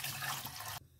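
Water pours into a cooking pot for sugar syrup, a short splashing gush that stops abruptly near the end.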